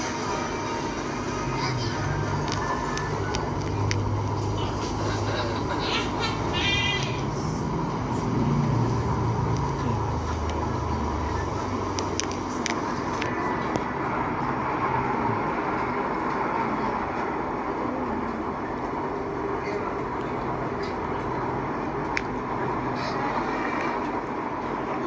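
Steady rumble of an LRT 1 light rail train on the Cavite Extension riding between stations, a continuous low drone with rolling wheel and track noise throughout, heard from inside the car near the door.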